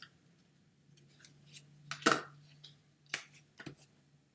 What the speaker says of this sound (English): I'm going to be taping them in the meantime